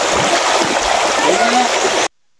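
A strong river current rushes loudly and continuously near a deep swimming spot, with splashing and a voice faintly audible under the water noise before it cuts out abruptly.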